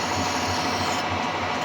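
Hand file rasping along the edges of a fabricated steel part for Harley forward controls and dash mounts, a steady close-up scraping with a faint repeating stroke rhythm and no talk.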